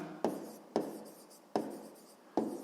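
Pen writing out a sixth-grade math solution on paper: four crisp scratchy strokes at a fairly even pace, close up and alone.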